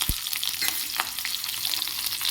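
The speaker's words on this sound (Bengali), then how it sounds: "তেলের মধ্যে লঙ্কা দিলে ফটর ফটর চটপট চটপট আওয়াজটা হবেই" Green chilies dropped into hot oil with black cumin seeds, close sizzling with sharp crackles and pops scattered irregularly over a continuous frying hiss.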